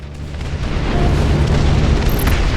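Rocket impacts and explosions rip into an aircraft's fuselage in the combat flight game Project Wingman, a dense rumbling boom that swells and sustains for a couple of seconds with a bright tone flickering near the end.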